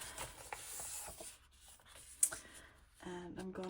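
A glue stick rubbed onto a paper envelope, quiet scratchy rubbing strokes with a brief sharp tap midway, followed by a voice speaking near the end.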